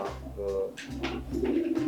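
Pigeons cooing in a loft, low rolling repeated coos in steady phrases, close and clear, with a voice briefly underneath.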